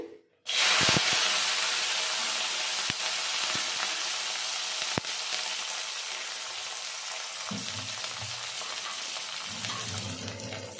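Garlic hits hot oil with a sudden loud sizzle, then fries in a dense, steady hiss that slowly eases, with a few faint clicks and light scraping noises underneath.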